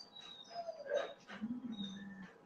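Dogs whimpering and yipping at feeding time indoors, a few short high whines followed by a lower sustained whine, close by and moderately loud, with no talk over them.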